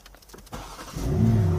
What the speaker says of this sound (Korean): 시동 걸어볼게요.